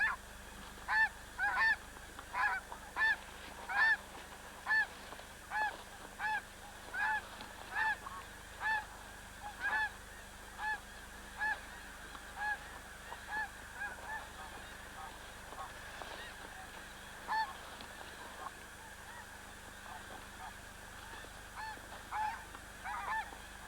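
Geese call in a snowy cornfield where leftover corn heads remain, a loose series of repeated honks at a steady moderate distance, some overlapping, with faint narration underneath.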